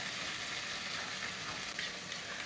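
Masala-coated vegetables sizzle steadily in a frying pan while being pushed aside to make room for egg, a close, continuous hiss with faint scraping.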